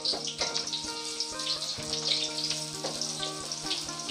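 Garlic and shallots sauté in a pan for a simple prawn soup, giving a steady close sizzle with faint clinks and stirring knocks throughout, no voices.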